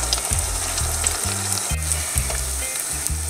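Eggplant slices fry in hot oil with a steady, close crackling sizzle, broken by a few soft clunks of utensils as pieces are lifted out to drain, no voices.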